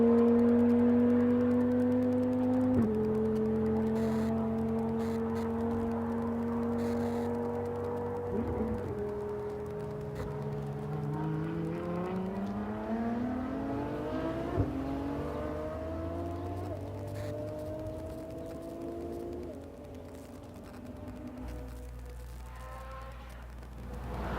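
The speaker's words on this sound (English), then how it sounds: "The sound of that ripping down the straightaway here at Circuit of the Americas, that is unbelievable." A Ferrari LaFerrari Aperta ripping down the straightaway at Circuit of the Americas, its engine note climbing through gear changes, rising and shifting pitch as it passes by, then settling into a lower steady tone.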